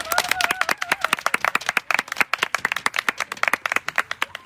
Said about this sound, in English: I want you to clap for yourselves.